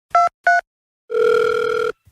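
A telephone call signal: two short electronic beeps, then one longer steady tone, clear and close, with no talking.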